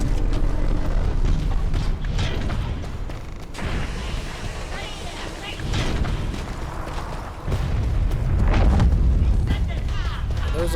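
Bombs exploding in the video game The First Descendant, with dense booming blasts and rumbling bursts rolling through the whole stretch, mixed with game sound effects and a voice talking over them.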